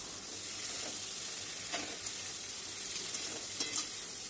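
Tangra fish sizzles in a pan of oil and spice paste, giving a dense, even frying hiss throughout, with a few faint scrapes and clicks as the pieces are stirred.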